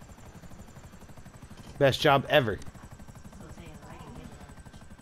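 A GTA V helicopter thrums continuously in the background, its rotor chop steady and fairly close while someone briefly speaks over it in the middle.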